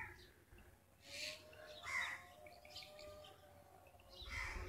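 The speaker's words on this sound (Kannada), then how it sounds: "ಬರೀ ಹಕ್ಕಿಗಳು ಕೂಗ್ತಿದೆ ಆ ಕಡೆ ಈ ಕಡೆ ಎಲ್ಲ" Birds call back and forth in the quiet, misty monsoon hills of Kodaikanal, faint scattered chirps and short calls over a soft hush of wind, with no traffic.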